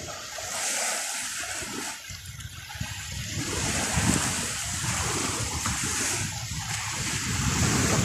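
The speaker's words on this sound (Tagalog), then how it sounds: "maingay po yung alon ng dagat" Noisy sea waves wash and splash continuously on a windy New Year's day, with broadband surf and wind rumble filling the whole stretch, fairly loud and steady with no voices.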